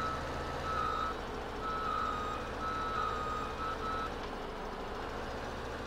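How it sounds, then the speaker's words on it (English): A truck's reversing alarm in Farming Simulator 17 beeps repeatedly at a steady pace over a low engine hum, fairly distant. "the beep beep beep sounds come on, even though the truck is not officially being powered"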